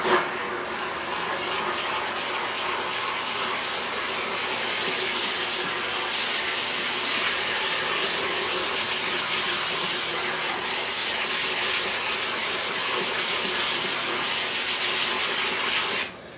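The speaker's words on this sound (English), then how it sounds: "I'm going to take my steamer one more time and go over the surface of the mat." A steam cleaner passing over a car floor mat, a steady hiss of steam blasting continuously, broadband and close, running unbroken for the whole stretch with no talking.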